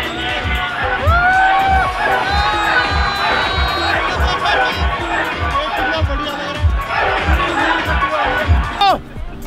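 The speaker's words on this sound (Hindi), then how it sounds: "भाई कितनी भीड़ हो गई है यहाँ" A dense, loud crowd presses around a modified Mahindra Thar at an Independence Day gathering, with continuous shouting, cheering and chatter from many voices and a whistle-like cry near the end.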